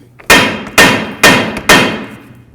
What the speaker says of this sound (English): just hit right along here with your hammer until it separates